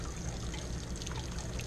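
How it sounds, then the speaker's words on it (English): Steady, continuous trickle of water draining out of an RV water heater, a constant rushing splash close by with no talking over it. "I'm gonna let that drain"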